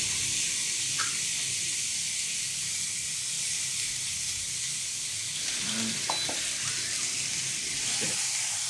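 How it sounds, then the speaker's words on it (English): A seasoned steak starting to cook on a grill: a steady, fairly faint sizzling hiss throughout, with a few small clicks and knocks, heard close and without talk. "Now finally, I'm ready to cook my steak."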